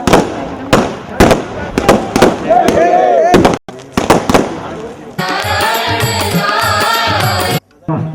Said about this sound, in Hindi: अब सभी लोग हम मिलकर आतिशबाजी उस्मानाबाद के साधकों ने लेके आई है